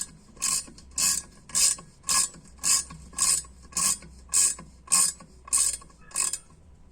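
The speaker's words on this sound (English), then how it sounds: "now I'm gonna be tightening and compressing this valve" Valve spring compressor being tightened on a 4G63T engine head from an Eclipse, a close, evenly paced series of about eleven ratcheting clicks, each a short metallic burst, with no talking.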